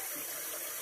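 Tap water runs steadily while someone rinses their face, a close, continuous splashing rush with no speech.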